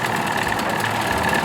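A 25 HP Evinrude outboard motor runs in a steady, loud, buzzing drone with a rough knocking texture, close by and without pause.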